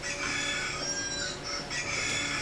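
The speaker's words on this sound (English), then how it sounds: "that's a nice rooster you got there" Rooster-crow alarm sound playing at moderate volume, repeated crowing calls in a continuous stretch with no talking.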